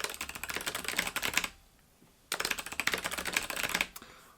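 Rapid clicky typing on a keyboard fitted with Kailh Box White switches, two dense bursts of keystrokes separated by a short pause, close and crisp with no talking.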